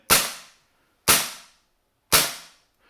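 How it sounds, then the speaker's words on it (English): A PP2000 gas blowback airsoft submachine gun fitted with a suppressor fires three single shots about a second apart, each a sharp close crack that fades quickly into silence. "I'm going to fire it to see what it sounds like with the suppressor in"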